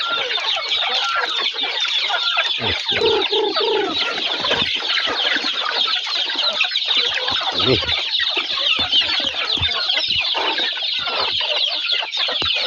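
A dense flock of chickens clucks and squawks continuously, close and loud, with overlapping calls filling the whole stretch; a single brief spoken word is barely noticeable.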